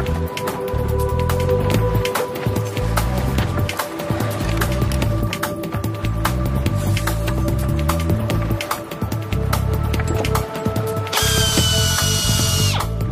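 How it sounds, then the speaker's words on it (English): A power drill drilling holes for mounting brackets on the Rio-Antirrio bridge runs loudly and continuously, its motor whining with rattling vibration, pitch wavering as it bites, ending with a higher whirring tone. "All this just to drill holes for mounting brackets."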